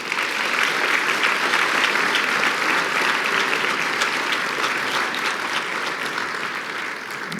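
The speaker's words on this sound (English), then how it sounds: "Let's give them a round of applause." Sustained audience applause fills a hall at a regional scholar awards ceremony, steady and dense throughout with many hands clapping at once, tapering slightly toward the end.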